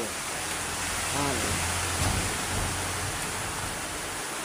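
Strong wind and heavy rain lash the Philippines during Typhoon Kristine, a steady, dense broadband roar that fills the whole stretch with no break or pause.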